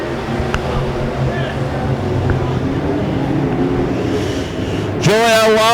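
Midwest Mods race cars roar off the green flag at Springfield Raceway during a Turkey Bowl B-Main, a loud layered engine drone that swells sharply near the end as cars pass close.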